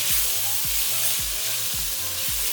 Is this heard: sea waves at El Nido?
no